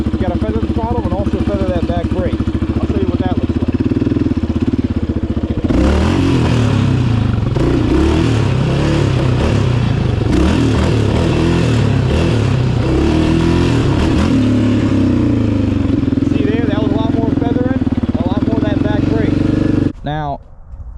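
A motorcycle engine revs high and steadily during a slow wheelie, with the throttle feathered and the back brake used, a loud sustained drone that swells near the middle, while a voice talks over it throughout.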